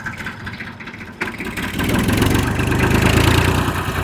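An old Massey Ferguson tractor engine idles steadily, growing louder and rougher partway through, with a continuous rumbling chug and no voices.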